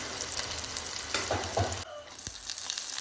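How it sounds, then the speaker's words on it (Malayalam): Chopped shallots sizzle in coconut oil in a hot pan, a close, busy frying hiss with stirring scrapes, then the sizzle drops to a quieter simmer partway through, with no voices. "ചെറിയ ഉള്ളി അരിഞ്ഞിട്ട് നല്ലോണം താളിക്കാം"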